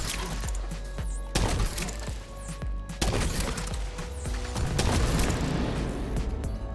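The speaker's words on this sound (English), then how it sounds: "start shooting your initial oxidizers" Sustained gunfire in The Division 2 as players shoot oxidizers, dense bursts of shots and sharp impacts over a steady game soundtrack, loud and continuous with heavier blasts at a few moments.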